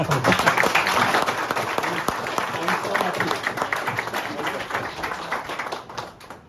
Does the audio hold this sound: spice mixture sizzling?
no